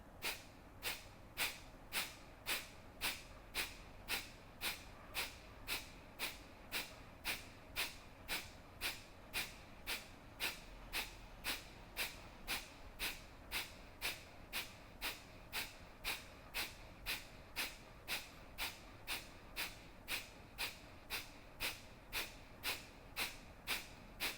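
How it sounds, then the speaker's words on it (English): Forceful, rapid nasal exhales in a yoga breathing practice, pumping the abdomen, with dozens of short sharp puffs in a steady, quick rhythm, close and fairly quiet. "pump the abdomen with exhales"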